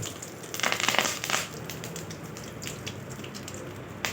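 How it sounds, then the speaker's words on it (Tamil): Curry leaves and urad dal sizzling in hot oil, a soft crackling spatter with a denser burst of pops early on, then a quieter steady fizz. "கருவேப்பிலையும் நல்லா பொரிஞ்சு வரட்டு."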